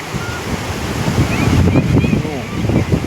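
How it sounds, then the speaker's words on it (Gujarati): Heavy rainwater rushes in a strong flow at Bileshwar temple, making a loud, continuous roar like surf. Voices can be heard talking over the torrent. "તે પાણીનો પ્રવાહ વરસાદના કારણે જબરદસ્ત આવી રહ્યો છે"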